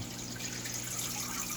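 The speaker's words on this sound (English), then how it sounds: "we're waiting for this tank to drain. So it might be a little gurgly and noisy. I'm leaving the filter running while we do this." Water gurgles steadily from an aquarium tank as it drains, with the filter left running; a continuous, close, low-level flowing and bubbling wash with no talking.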